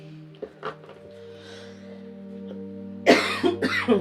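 A few quiet throat sounds over a low steady hum, then a loud burst of harsh coughs near the end.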